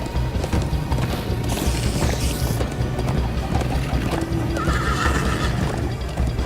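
A horse whinnies loudly over steady hoofbeats and rumbling motion in the video game Minecraft: Story Mode, with no talking.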